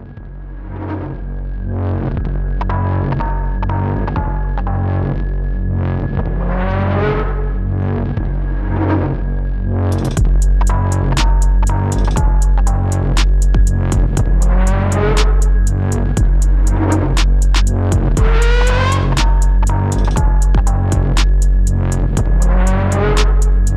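A lifted VW Atlas Cross Sport on a test drive gives a steady engine and road drone with repeated shifts as it gains speed, under a rhythmic thumping backing track.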